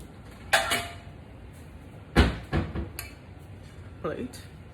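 Plates and dishes clatter as someone takes a plate from a kitchen cupboard while making tacos, giving a few sharp knocks and clinks with a cupboard bump, close and moderately loud over quiet room tone.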